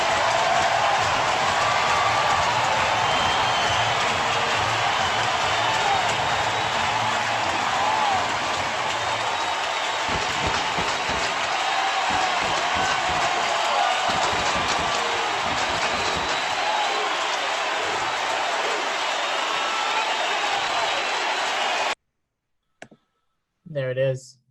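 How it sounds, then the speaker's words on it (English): A packed baseball stadium roars as Barry Bonds crosses home plate after his 700th home run, a sustained wall of cheering and applause that swells and churns for over twenty seconds, then cuts off abruptly. "and listen to this crowd."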